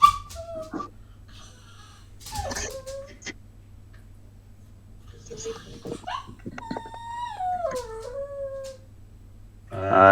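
A human voice imitates a ghost dog whining during a tabletop Dungeons & Dragons session, with several high, wavering whimpers and a long descending whine, mixed with soft background noise.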